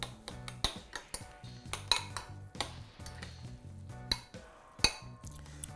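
Cucumber granita with olive oil, salt and pepper mixed in a bowl, with a spoon scraping and clinking against the side in repeated close taps and knocks at an uneven rhythm.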